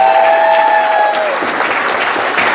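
Audience applause at the closing of a leadership conference, a dense wash of clapping that starts loud under a sustained tone and continues steadily to the end.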